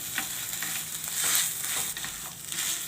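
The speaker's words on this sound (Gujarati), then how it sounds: "હવે આપણે બટેટાને એકદમ સરસ મિક્સ કરી લેવું." Potato stuffing being stirred and mixed in a hot pan for a rava snack, a steady close sizzle of frying with scraping spatula strokes running throughout, no voices.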